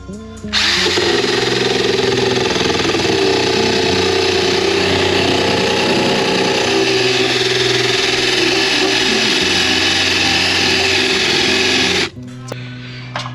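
Handheld power tool, used on the painted body of a 2021 Winnebago Solis 59P camper van, runs in a loud, steady whirring drone for about twelve seconds before cutting off abruptly.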